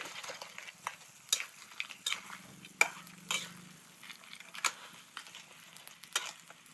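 Egg stir-fried with glass noodles, soy sauce, sugar and seasoning powder in a pan: quiet sizzling under repeated sharp scraping and clacking strokes of a utensil against the pan, close and irregular.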